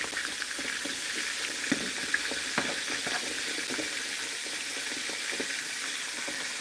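Catfish pieces fry in hot oil in a pan, giving a steady, close hiss with scattered sharp crackles and pops, with no talking.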